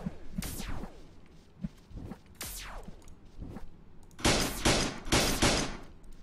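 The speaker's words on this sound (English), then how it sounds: "They're throwing grenades." Grenades or rockets explode in the video game Planet Explorers: a string of sharp bursts with fast falling whooshes, spaced apart early and then two heavier, longer blasts close together near the end, fairly loud with no talk.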